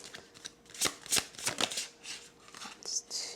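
Tarot cards being shuffled by hand in a series of soft, papery riffles and slaps, irregular bursts close to the listener, with a voice heard faintly underneath.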